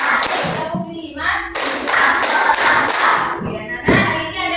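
Young pupils in a classroom clap their hands in rhythmic groups of counted claps, loud and close, with children's voices heard between the bursts.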